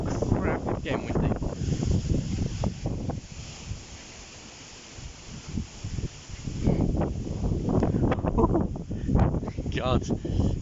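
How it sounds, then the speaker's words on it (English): Strong wind rumbles and buffets the microphone in heavy gusts on a dark, stormy day, easing briefly in the middle before roaring up again, while a person speaks over it. "it's getting windy"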